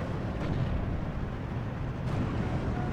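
Explosion in the World War II strategy game Steel Division II, heard as a dense, loud, continuous rumbling roar with two faint sharper bursts.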